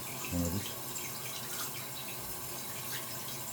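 Mains tap water running through a carbon filter, a steady faint rushing flow, with a brief voice near the start.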